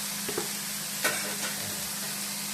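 Idli bonda pieces and sliced onion fried in a pan, a soft steady sizzle broken by a few brief scraping stirs of a spoon against the metal, faint and close with no voices.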